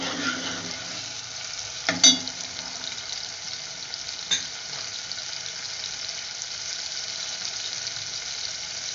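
Garlic and ginger fry in a pan for arvi (taro root) sabzi, making a soft, continuous sizzle broken by a couple of sharp utensil clicks, with no voices.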